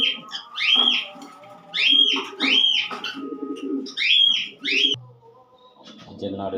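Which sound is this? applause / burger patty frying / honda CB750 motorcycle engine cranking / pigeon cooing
pigeon cooing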